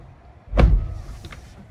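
A single soft thud as a Tesla Cybertruck door shuts, close by, followed by a faint mechanical whir in the quiet cabin.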